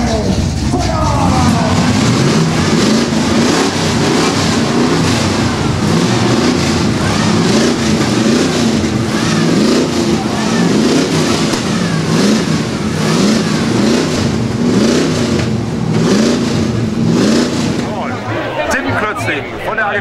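American car engines rev together at a Dukes of Downtown engine concert, a loud, sustained roar of many motors with rising and falling revs for about seventeen seconds before easing off, with crowd noise mixed in.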